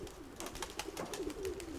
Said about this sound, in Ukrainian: Отам тільки що тягнеться якийсь голуб.